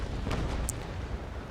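Naval cannon fire in the Naval Action video game: a dense, rumbling broadside with deep booms rolling together into a continuous low roar, heavy and sustained without clear separation between shots.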